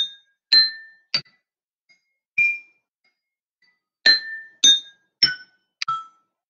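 A xylophone of water-filled drinking glasses is struck one glass at a time, eight clear ringing pings stepping through a scale with short gaps and brief decays, with no voices.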